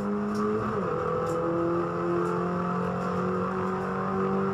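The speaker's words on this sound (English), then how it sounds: "Front wheel drive mini up over the exit curb" A front-wheel-drive Mini race car on track at Sandown, heard onboard: a steady, loud engine drone whose pitch rises and falls with gear changes, continuous throughout with no voices.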